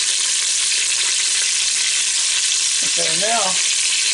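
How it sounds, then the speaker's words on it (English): Steaks sear in an Instant Pot with a loud, steady, hissing sizzle that fills the whole stretch, and someone speaks briefly over it near the end. "now they're pretty much seared on all sides"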